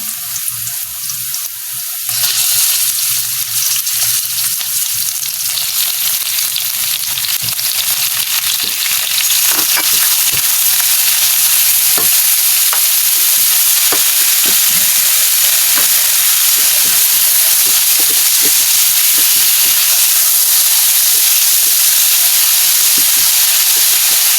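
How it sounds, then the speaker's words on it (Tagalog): Pork meat hits a hot pan and bursts into loud, steady sizzling and hissing that carries on alone without a break while shrimp and banana-heart sauté is being cooked. "Palagyan na po natin ating karne."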